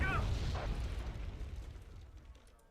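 A mortar round explodes in Wargame Red Dragon, a single distant low boom that rolls out and slowly fades over a couple of seconds, fairly faint.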